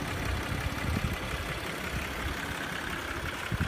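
A 2017 Audi Q7 Prestige with the 3.0T engine and Quattro drive idles at a steady, even level, a close and constant low rumble with no voices over it.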